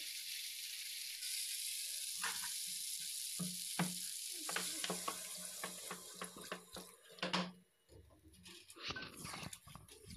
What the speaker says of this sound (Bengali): কষিয়ে নেওয়া হয়ে গেলে এবার আমি জল দিয়ে দেবো মাংসতে।